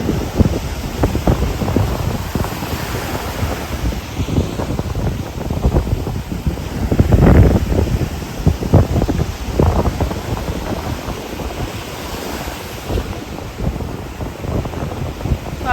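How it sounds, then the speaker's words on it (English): Wind buffets the microphone with rough gusts while ocean surf rolls and crashes in the background at Myrtle Beach, one louder surge near the middle. "Silence while we listen to the ocean."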